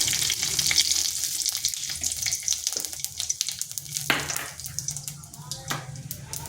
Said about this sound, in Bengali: দিয়ে দিচ্ছি গোটা জিরা একটা তেজপাতা আর একটা শুকনো লঙ্কা